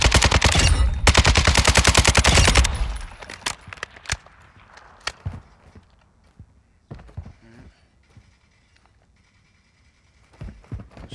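Rapid automatic gunfire from a custom weapon build in Call of Duty Modern Warfare II, a loud burst of close shots for a few seconds, then scattered single shots and quieter game sounds.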